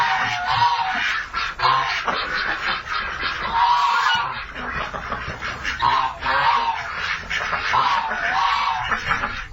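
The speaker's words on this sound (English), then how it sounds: "spend the next 10 minutes trying to generate a lot of quacking" A dense flock of Irish ducks on a duck pond keeps up loud, continuous overlapping quacks and honking calls, pulsing in waves with no break.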